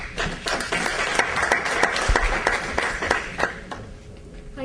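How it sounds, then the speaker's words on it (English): Audience at a Panafricanism event in Maryland applauds steadily for several seconds, dense clapping with a few sharper individual claps, fading toward the end. "give it a round of applause to Farida."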